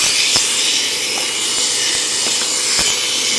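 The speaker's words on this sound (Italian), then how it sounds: "Prendo la fresa." An electric nail drill files UV gel off fingernails, giving a steady high-pitched whine with a gritty grinding rasp, loud and close throughout with small pulses as the bit touches the nail.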